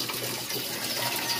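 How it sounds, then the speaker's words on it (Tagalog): Natural spring water flows in a close, steady rush, a dense continuous gurgling wash with no pauses over a short stretch. "Yung tubig na ito, yung natural na tubig"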